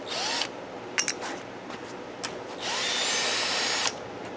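A power drill or impact driver spinning out bolts from a Troy Bilt mower carburetor: a short whir, a couple of brief blips, then a longer sustained run, close and loud with no talking.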